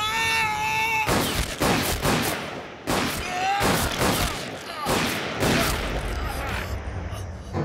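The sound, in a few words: gunshot in a film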